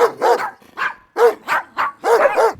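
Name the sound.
dog barking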